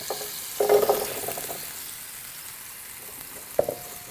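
Potatoes dropped into a hot pan just deglazed with wine: a steady sizzle throughout, a louder burst of spitting and crackling as they go in, then a lone sharp clink of utensil on the pan near the end.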